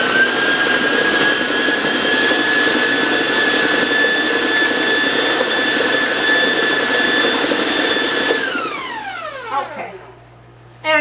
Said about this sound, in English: now I'm going to turn the mixer on